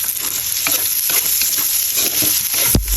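Garlic and onion fry loudly in hot oil while being stirred, a steady dense sizzle with scraping stirs throughout and a sharp clank near the end.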